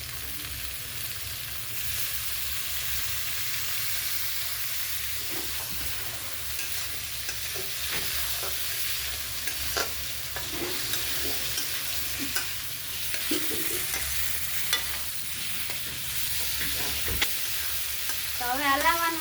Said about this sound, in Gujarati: તો હવે હલાવવાનું છે ઘડીક